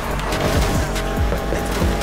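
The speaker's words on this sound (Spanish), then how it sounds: "Este es el derrape maravilloso." A car drifts in Need for Speed Heat, the engine droning loudly while tires squeal in repeated sliding bursts, close and continuous with no talk.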